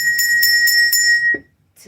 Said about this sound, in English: Get in alignment with the frequency of this bell.